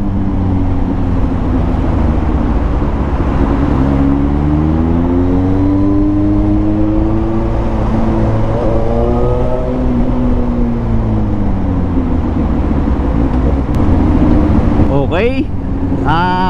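A Suzuki GSX-S750 four-cylinder motorcycle idles and creeps through heavy city traffic, its engine drone shifting pitch as it eases forward among surrounding vehicles, with a rider talking over it throughout.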